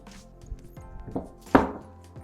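A few scattered knocks and thuds, one louder clatter near the end, as sliced pork liver is moved from a board into a bowl.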